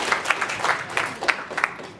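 Scattered applause from an audience of teachers at an Indonesian training session, irregular claps rising and falling against a noisy room background.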